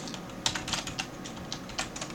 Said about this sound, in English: I can press down on the keyboard and the arrow key and press tab